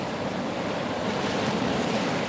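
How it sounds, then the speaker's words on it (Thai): Sea waves washing onto the seashore, a steady broadband roar of surf with some wind noise, continuous and fairly loud with no voices. "แล้วก็หูได้ยิน เสียงคลื่น"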